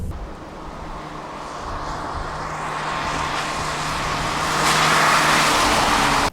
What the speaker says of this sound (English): at least you can hear the exhaust, and it's not modified.